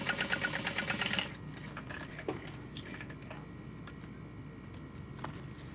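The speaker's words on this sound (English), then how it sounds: "I'll pivot it and sew along the bottom. Again, totally through the lining." A sewing machine runs a fast, steady stitch along the bottom of a backpack, sewing through the lining. The burst is loudest at the start, then quiet handling and small taps follow.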